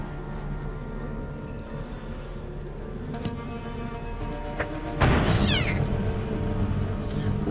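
A mutant cat in Underrail yowls once, a short distorted meow rising over a sudden crash, preceded by low ambient hum and a couple of faint ticks.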